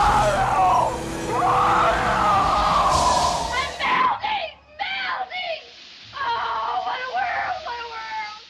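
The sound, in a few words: alien-human hybrid screaming as it is sucked into space in Alien Resurrection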